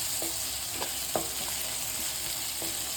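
Ingredients for rava kichadi sizzle and hiss steadily in a hot pan while a spoon scrapes and taps against it now and then.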